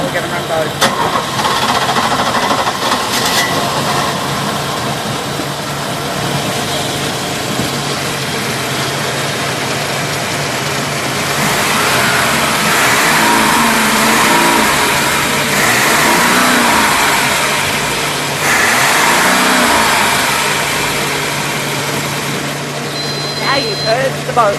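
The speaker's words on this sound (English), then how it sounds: "And now we're going to run both." Two boat engines run together in a continuous, fairly loud drone that swells with a couple of revving surges midway before easing back to idle.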